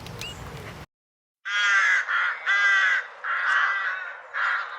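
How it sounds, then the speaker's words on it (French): A crow gives a series of harsh caws, four or five rough calls in close succession after a brief pause, heard fairly near and alone. "Alors, ouais, c'est le corbeau."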